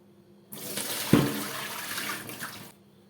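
A yellowed kitchen range hood filter is washed in water, with a burst of splashing and running water lasting about two seconds, close and fairly loud, with no talking.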